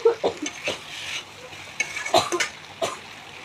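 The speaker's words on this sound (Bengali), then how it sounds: "এখন শুটকি মাছটাও দিয়ে দেবো, যাতে একসাথে ভালোভাবে কষে যায়।" Dried fish, brinjal and potato are stir-fried in a pan: a series of close, short scraping stirs against a soft sizzle, with brief gaps between strokes.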